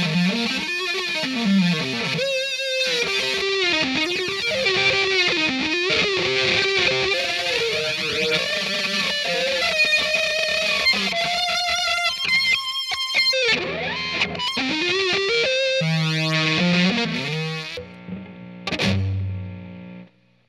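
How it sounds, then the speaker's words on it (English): An electric guitar plays a solo through a reverse effect pedal, its distorted notes swelling in backwards with a loud, continuous texture that breaks up and trails off at the end. "It's a reverse effect,"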